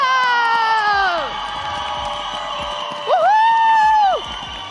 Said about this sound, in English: let's go to the crowd that is right next to us, screaming a lot for Alpha 7